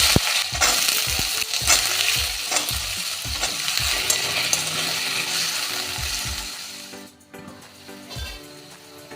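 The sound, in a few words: diced potatoes frying in oil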